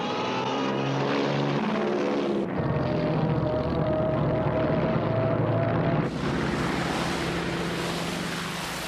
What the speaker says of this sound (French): Le jour suivant, à l'aube, une première vague d'appareils teste les défenses de l'île de Midway.